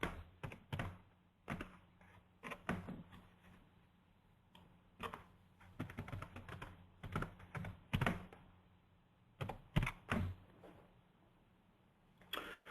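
Fingers type a login name and password on a computer keyboard in short, uneven bursts of crisp, close key clicks. Brief pauses separate the bursts, and no one speaks.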